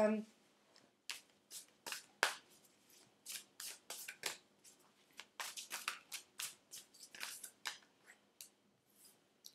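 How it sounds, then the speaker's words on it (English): Tarot cards are shuffled and drawn by hand, with quick rippling riffles and crisp flicks in uneven bursts, close and fairly quiet. "let's pull some cards"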